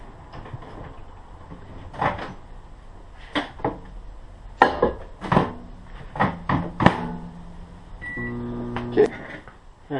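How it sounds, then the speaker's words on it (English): A microwave oven is opened, loaded with half a cup of plastisol and started, with close clunks, door handling and beeps before a low steady hum begins toward the end. "I'm going to pop that into the microwave and get the process started."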